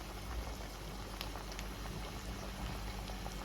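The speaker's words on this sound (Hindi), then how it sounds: "तो सारे चिकन के पीस को हमें तल लगा के ही फ्राई करना है।" Chicken pieces coated in sesame seeds frying in hot oil over a low flame, a faint, even bubbling sizzle with no voices.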